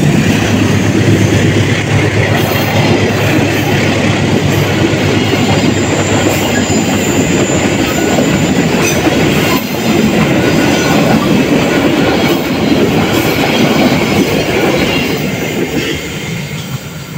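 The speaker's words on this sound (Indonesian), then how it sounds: "Baru saja melintas kereta Argo Parahyangan dari Jakarta menuju Bandung" The Argo Parahyangan passenger train from Jakarta to Bandung rumbles past close by near Cikalongwetan, a loud continuous roar of wheels on rails with rattling clatter and a faint squeal, fading slightly at the end.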